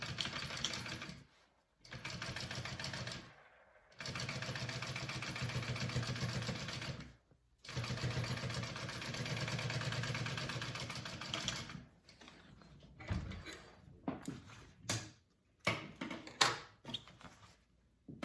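Sewing machine top stitching a seam on a vinyl Janie pouch, running in several sustained bursts with short pauses between, then a stretch of choppier, stop-start stitching and handling toward the end.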